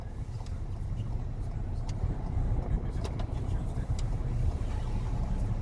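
Car engine humming at steady moderate revs during a driving lesson, a continuous low rumble with road and wind noise, the instructor talking over it.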